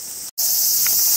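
Cicadas singing during rain beside a wooded mountain trail near Hanatakayama in Shimane, Japan, a loud, steady high buzzing drone that drops out for an instant before resuming.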